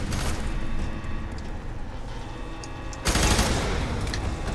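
Sustained gunfire in the shooter game FEAR 3, a dense rumbling barrage that swells into a louder, harsher burst of shots near the end, with no talking.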